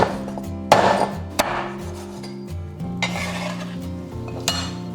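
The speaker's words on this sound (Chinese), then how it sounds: "现在这个鱼骨我们就斩成小块" A cleaver hacks fish bones into small pieces on a board, a few loud clattering chops close by, mixed with clinking kitchenware and a steady hum.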